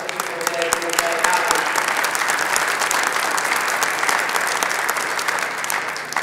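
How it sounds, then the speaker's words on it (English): An audience at a grassroots political festival in Wisconsin breaks into loud, sustained applause, many hands clapping densely and evenly with some crowd murmur mixed in. "I think we as citizens deserve a round of applause for all of that effort"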